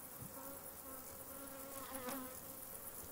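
Bees buzz steadily at close range in a continuous, even drone with a slight swell partway through, no voices present.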